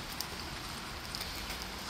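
Rain falls in a steady, even hiss of dense patter close by, with a few slightly louder drops standing out now and then and no voices.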